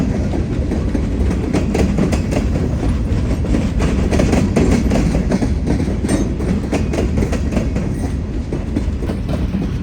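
Freight train with a long string of wood chip cars crossing Siskiyou Pass in Southern Oregon, loud and near, with continuous rumble and rhythmic clickety-clack of wheels over rail joints.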